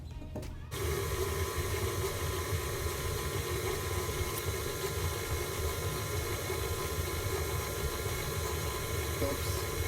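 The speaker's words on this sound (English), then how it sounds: "now we're gonna mix it in low" A stand mixer runs steadily on low speed while mixing chocolate chip cookie dough of butter and sugars, a constant close motor hum that starts abruptly and continues without pause.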